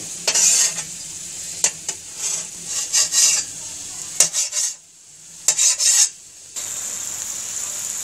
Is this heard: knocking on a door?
no